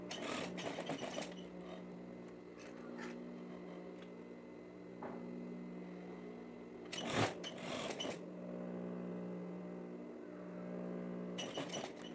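A sewing machine stitching a women's plaid shirt runs in short, loud mechanical bursts at the start, in the middle and near the end, with a low steady hum in between and no voices.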